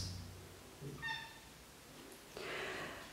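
A house cat gives a short, faint meow in a quiet kitchen under renovation, with a brief soft rustle afterward.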